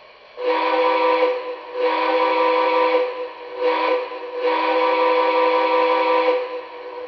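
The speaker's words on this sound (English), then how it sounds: "So, here's the whistle." A Lionel NKP Berkshire 2-8-4 O gauge model steam locomotive sounds its whistle in four blasts, long, long, short, long, loud and close with brief gaps between them and no voices.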